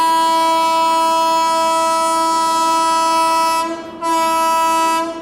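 The Mumbai-Ahmedabad Double-Decker Express sounds a loud, sustained horn blast as it departs Vadodara Junction railway station. The blast cuts out briefly near the end, then sounds again.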